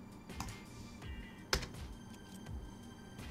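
Typing on a computer keyboard during Raspberry Pi setup: a few scattered, faint clicks and key taps with one sharper stroke near the middle, quiet and close.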